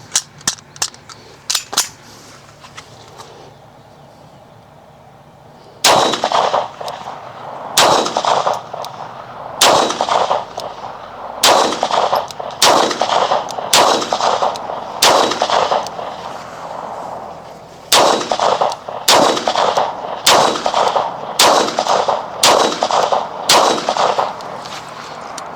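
Loud, sharp 9mm pistol shots at an outdoor shooting range, a few faint pops first and then a long, evenly paced string of close, cracking reports, each with a short ringing tail.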